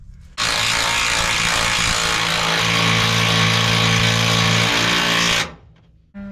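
A 3/8 impact driver drives a lag screw with a loud, continuous hammering whir that runs about five seconds close up, then stops abruptly and is followed by a brief knock.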